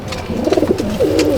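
A Madrasi pigeon being held by hand at a loft gives soft, low throaty coos in a short rolling phrase, close by against a light background hiss.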